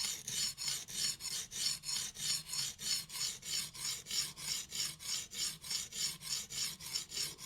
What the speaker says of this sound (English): on the blade, just letting the stone cut